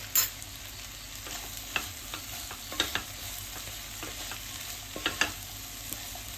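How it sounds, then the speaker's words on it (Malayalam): Okra stir-fry for a quick ladies finger mezhukkupuratti, stirred in a pan with repeated sharp scrapes and clinks of a spoon over a low continuous sizzle, close by and alone. "ഇനി നന്നായിട്ട് ഇളക്കിയിട്ട് ഇതിനെല്ലാം മിക്സ് ആക്കുക."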